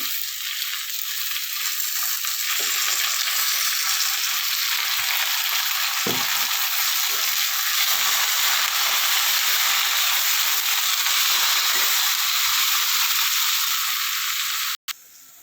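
Gongura leaves frying in oil for a dried red chilli chutney make a loud, steady sizzle that continues unbroken, with faint stirring knocks underneath, close to the pan.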